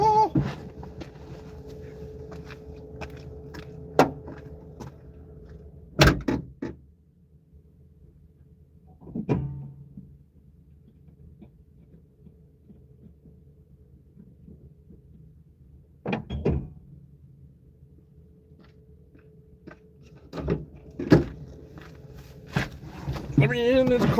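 A car door opens and slams shut on a cold day, giving several separate hard thunks spaced out over the stretch, with a quiet rustling background and talking in between.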